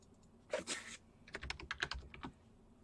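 Computer keyboard typing at a desk, a short burst of clicks followed by a quicker run of several keystrokes, close and quiet, with no talking.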